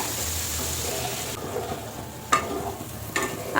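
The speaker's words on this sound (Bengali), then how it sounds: "সমস্ত কিছু ভেজে নেব এইভাবে এবার ফুলকপিটাও দিয়ে দিচ্ছি এই যে এখন কিন্তু ভালোভাবে একটু নাড়াবো" Carrot and cauliflower fry in a pan while being stirred, with a steady sizzle and a few sharp scraping clinks of the spoon near the end.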